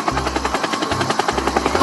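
Loud toy helicopter effect from a Dinoco toy helicopter: a rapid, rhythmic electronic chopping of rotor blades over a buzzing whir, pulsing in short repeated bursts.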